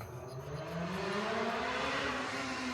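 A motor vehicle passing by on a residential street, a rising then steady engine whine with a swelling, doppler-like drone, fairly close and alone.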